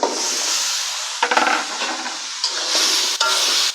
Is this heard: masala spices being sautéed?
yes